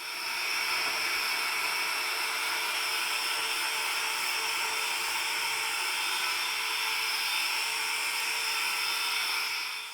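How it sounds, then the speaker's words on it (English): A battery-operated vacuum cleans dust off a freshly sanded cabinet door, giving a steady high-pitched whine and hiss that holds evenly from start to finish, loud and close. "I keep a battery operated vac next to me so I can just vacuum these things off"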